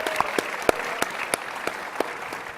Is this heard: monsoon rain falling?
no